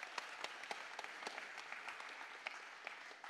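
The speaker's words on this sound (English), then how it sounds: "Everybody give a round of applause for Remington for helping me out" Audience applause at a magic camp competition show, a steady wash of many hands clapping throughout, close and fairly even in loudness with no talk.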